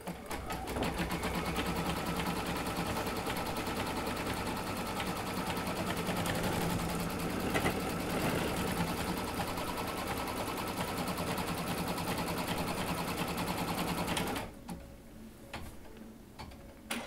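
An embroidery sewing machine stitches an in-the-hoop bunny slipper appliqué, its needle hammering in a fast, even, close ticking rhythm for about fourteen seconds before stopping into quieter handling sounds.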